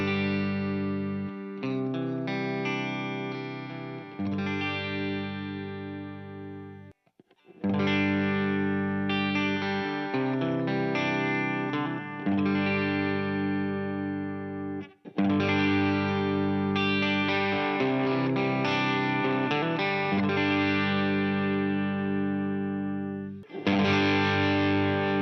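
Distorted electric guitar through an Xotic BB Preamp pedal, with gain and drive adding compression and a gritty break-up tone. Sustained chords ring loud and full, separated by a few brief pauses, with no talking.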